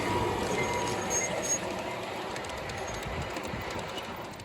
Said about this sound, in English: it looks like we have a Southern Pacific train headed our way